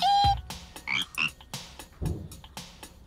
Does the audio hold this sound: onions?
no